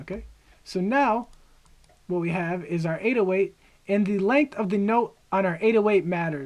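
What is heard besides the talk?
No distinct noise like a dog, phone or traffic.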